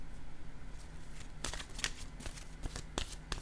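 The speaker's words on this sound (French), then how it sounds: "je vais déposer une nouvelle carte de mon oracle de l'âme" Oracle cards being handled and laid down on a table: a run of light papery flicks, slides and soft taps, close and fairly crisp over a low steady background hum, with no talking.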